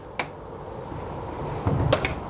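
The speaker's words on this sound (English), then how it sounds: "close this door behind us in a second" A pilothouse door on a 2023 Fleming 65 luxury yacht gives a short click, then a heavier thud and latch as it closes, close by against a quiet background.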